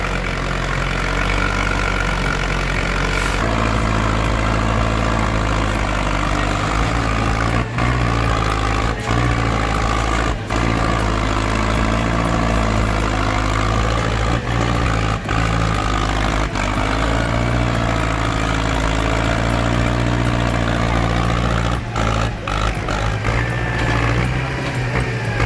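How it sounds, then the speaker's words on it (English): Two tractors, an LKT-80 and a Fendt 939 Vario, strain against each other in a tug-of-war at a 2017 show, their heavy diesel engines droning loud and constant with steady low rumble and occasional revving swells. "The LKT-80 takes on the mighty Fendt 939 Vario in an all-out tug-of-war"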